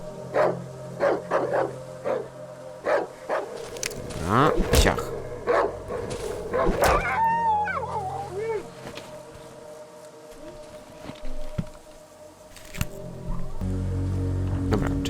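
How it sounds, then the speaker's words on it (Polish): Dog barking and whimpering inside the horror survival game Darkwood, a run of sharp barks followed by a high whining cry, heard alongside someone talking and game ambience. "Czy to jest pies?"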